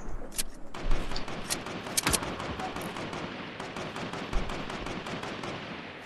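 Video game gunfire: dense, continuous volleys of shots and automatic bursts, with sharp nearby cracks standing out over a constant rattle of distant fire and occasional low thuds.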